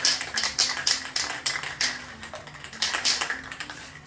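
Bursts of aerosol spray paint hiss onto a surface in short, rhythmic passes for a thin first dusting coat, each spray close and moderately loud, with brief pauses between strokes.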